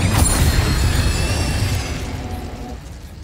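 Fire spell blast from Incendio in the video game Hogwarts Legacy: a loud, booming burst of roaring flame that rumbles and fades over about three seconds.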